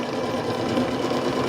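A sewing machine top stitches along the edge of a vinyl facing, running in a steady, fast, continuous whir with an even mechanical pulse, close and alone.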